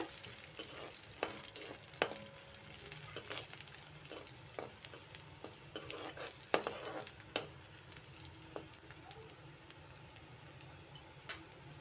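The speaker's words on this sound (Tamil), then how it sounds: "பூண்டு போட்டு எல்லாம் நல்லா வணக்கிக்கோங்க" Garlic sautéed with curry leaves in a pan for a Mumbai-style brinjal gravy. A quiet, continuous sizzle is broken by frequent sharp clicks and scrapes from stirring, with no talking.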